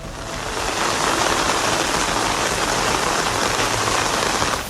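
Heavy rain falls in Mecca, Saudi Arabia, a thick, unbroken roar of downpour that swells slightly at the start and then holds steady and close.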